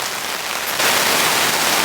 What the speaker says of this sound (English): This might be the heaviest rain of the whole camp right now.